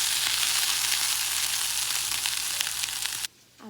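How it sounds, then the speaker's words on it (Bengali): Shrimp frying with spices in a hot pan gives a loud, steady sizzle that continues without a break, then cuts off abruptly near the end. "এবার মশলা দিয়ে আমি একটু ভালো করে ভেজে নিব।"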